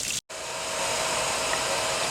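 A water pump motor for a rental house's well system with an air tank hums in a steady whirring drone, briefly cut off near the start then running continuously and close.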